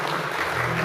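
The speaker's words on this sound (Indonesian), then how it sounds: "Berikan tepuk tangan untuk Tuhan Yesus." Audience applause during a church service, a short dense wash of clapping heard for under a second, fairly soft and continuous.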